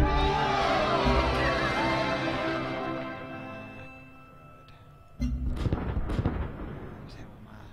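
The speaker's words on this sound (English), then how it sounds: "I think I'll do some shooting." Heavy weapon fire in the space strategy game Sid Meier's Starships booms in a thick rumbling burst that decays slowly, followed by a second cluster of sharp impacts and crackling blasts.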